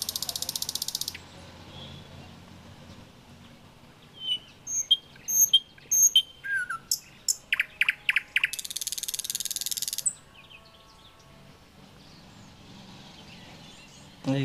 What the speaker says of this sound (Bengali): বিভিন্ন পাখির শব্দে সুন্দরই মনে হচ্ছিল বাগানটা।